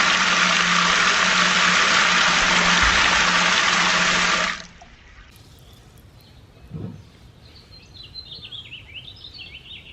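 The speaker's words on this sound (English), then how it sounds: "We're gonna rinse it one more time and see how much damage they really got in the bottom of it." Water runs loudly from a tap while a cast iron pot is rinsed, a steady rush that cuts off abruptly partway through and leaves a quiet room with a faint clunk and soft background noise.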